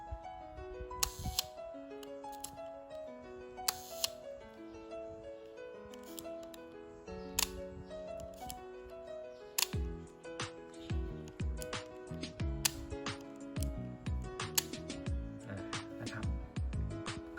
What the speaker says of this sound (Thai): ถ้าจะขึ้นชัตเตอร์ต้องโยกมาทาง นี้ก่อน อ่าค่อยโยก